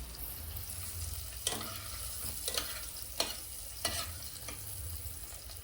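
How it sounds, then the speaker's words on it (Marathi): Cumin seeds, hing, chopped garlic and dried red chillies fry in ghee for dal tadka, a soft low sizzle punctuated by several distinct stirring scrapes and spatters at irregular intervals. "तूप टाकून घेतलंय. त्यात 1 चमचा जिरे आणि हिंग टाकून घेतलंय."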